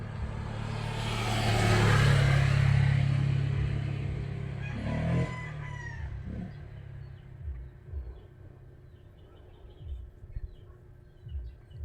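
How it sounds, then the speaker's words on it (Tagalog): A chicken foraging for food outside a house, brief close clucks amid a loud passing car and rumbling background, followed by quieter scattered clucking. "Naghahanap po yan ng pagkain yung manok."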